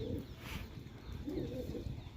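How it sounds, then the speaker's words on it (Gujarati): Pigeons kept in a friend's coop coo softly in low, throaty phrases, with two gentle bursts close by against a quiet background. "આપણા દોસ્તારના જ કબૂતર એ કેવા કબૂતર લાગે"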